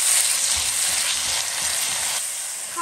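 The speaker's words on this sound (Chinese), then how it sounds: "油热下入葱花爆香，炒香下入西红柿丁，" Diced tomatoes and chopped scallions stir-frying in hot oil in a wok, a dense, loud, even sizzle with faint low scrapes underneath, continuous throughout and without speech.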